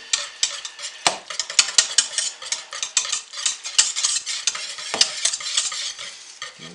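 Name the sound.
stirring coffee grounds into soap batter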